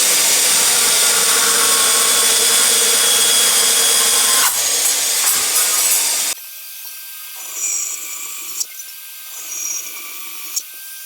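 Wood pieces being shortened with a saw, a loud continuous rasping stroke for several seconds that ends abruptly, followed by quieter intermittent scraping and handling.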